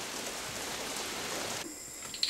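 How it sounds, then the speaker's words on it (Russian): Steady rain dripping and pattering outdoors on a dark evening, a dense even hiss throughout that thins slightly near the end, with a couple of sharper drip accents. "Так вы хоть будете знать, что это капает дождь."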